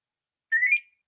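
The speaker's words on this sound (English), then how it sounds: "gives you that beep" One short electronic beep from a D100 device during installation, a clear high tone lasting under half a second in otherwise silent surroundings.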